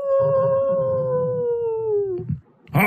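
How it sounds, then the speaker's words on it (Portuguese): The big bad wolf howls in a children's story of the three little pigs, one long, loud, close howl that slowly falls in pitch, followed by a brief pause and a sudden harsh burst of sound. "quando ouviram um uivo bem perto dali"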